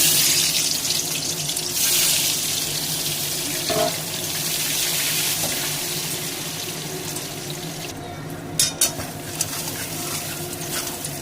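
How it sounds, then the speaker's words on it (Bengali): Potatoes frying with a pinch of salt in hot oil in a wok, with cardamom, cloves and cinnamon already in the oil, giving a steady close sizzle with scattered sharp clicks and scrapes near the end. "একটু নুন দিয়ে আলুটা ভাজা করছি"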